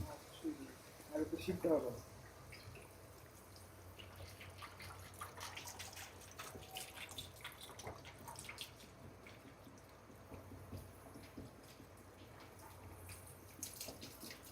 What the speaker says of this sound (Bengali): পানি কিন্তু মোটামুটি কি পরিমাণ দিচ্ছে আপনারা দেখতে পাচ্ছেন তো